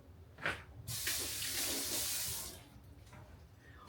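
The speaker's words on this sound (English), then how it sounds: "Add some water to your hands." Water runs from a kitchen tap onto wet hands while masa is being shaped for huaraches, a steady rushing stream of about a second and a half, with faint splashes and clatter before and after.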